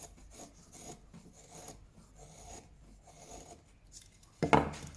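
A steel chisel is drawn freehand back and forth across a wet waterstone, giving a series of soft rasping strokes at a steady pace, close up, followed by a short louder scrape near the end.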